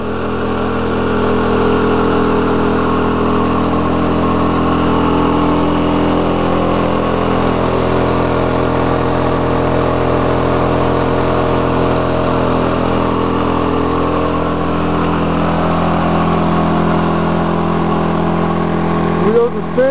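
A 110cc four-wheeler engine running on wood gas drones steadily and loudly at close range for the whole stretch, with a strong low hum, before a brief clatter at the very end.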